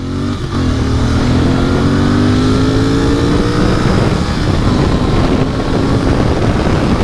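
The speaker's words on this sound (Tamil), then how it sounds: "இப்போ ஒரு ஒன் டுவெண்ட்டி க்ரூஸ் பண்ணுவோம்" Royal Enfield motorcycle cruising at 120 km/h, its engine holding a steady, loud drone with rising tonal harmonics, heavy wind rush over the microphone throughout and no talking.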